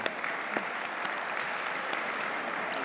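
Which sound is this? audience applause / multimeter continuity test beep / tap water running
audience applause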